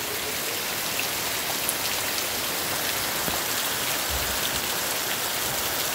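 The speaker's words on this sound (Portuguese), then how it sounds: "chovendo muito aqui na região" Heavy rain pours steadily in the mountain region of Ceará, Brazil, a dense, continuous hiss of drops striking surfaces with no voices, evenly loud across the whole stretch.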